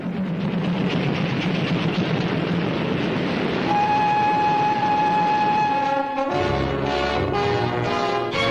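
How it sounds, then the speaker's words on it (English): A train rumbles and clatters steadily, then a sustained horn or whistle tone sounds midway before the rolling noise shifts and slows with a heavy low thud near the end. "The train doesn't go any further."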